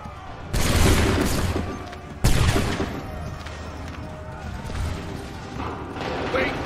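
A massed musket volley on command in Assassin's Creed III cracks out in two loud, broad bursts, with scattered shots, clatter and battlefield noise trailing after.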